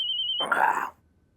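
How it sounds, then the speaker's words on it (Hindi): A single electronic telephone ring, a steady high tone followed by a brief warbling burst, then silence. "अरे ये फोन आ गया।"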